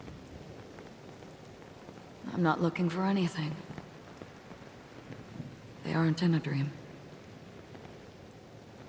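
Steady rain falls in Penacony, a location in the video game Honkai: Star Rail, forming a constant hiss throughout while two short bursts of speech rise above it.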